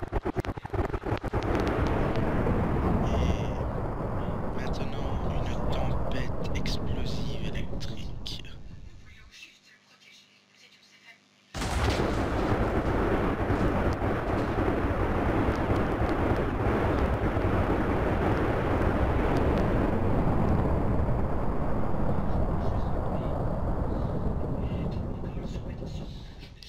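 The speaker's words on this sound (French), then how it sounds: "Maintenant, une tempête." Storm in a Minecraft mod game, a loud, roaring rush of wind and rumble that fades into near silence for a couple of seconds, then crashes back in abruptly and continues.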